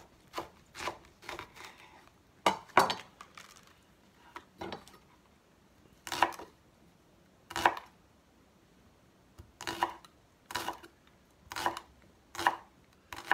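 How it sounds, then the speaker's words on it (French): A knife slicing rinsed leeks on a cutting board, with sharp chopping strokes that come in irregular bursts and single cuts, close and fairly quiet, with no talking. "j'émince les poireaux que j'ai rincés, bien entendu, dans un filet d'eau"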